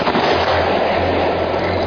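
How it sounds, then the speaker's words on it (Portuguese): Fireworks launched toward a light in the Amazon night sky make a loud, dense, continuous crackling and popping with no pauses. "alguém solta fogos de artifício em direção à luz"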